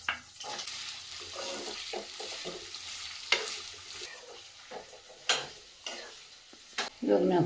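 Gooseberry thokku being fried and stirred in oil in a pan, with repeated scraping stir strokes over a low sizzle and a louder sizzling burst at the end.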